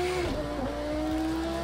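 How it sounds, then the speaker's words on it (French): A race car in the video game Project Cars 2 starts and settles into a loud, steady synthetic engine drone with a sustained tone and a slight waver in pitch. "la voiture démarre."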